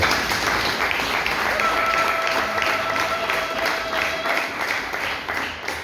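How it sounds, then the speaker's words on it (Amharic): Church congregation clapping steadily in praise, with sustained ululation riding above the dense, continuous applause, all near and loud throughout. "እስቲ እግዚአብሔርን በእልልታና በጭብጨባ እናመስግን።"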